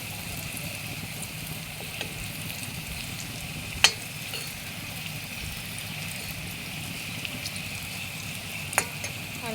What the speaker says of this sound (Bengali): আলুটা আমার ভাজা হয়ে গিয়েছে।